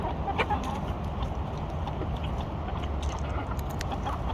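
Chickens peck and eat fresh peanuts, with soft clucks and quick pecking clicks scattered over a faint, steady background.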